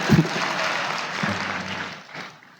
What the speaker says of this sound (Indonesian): Tepuk tangan dia.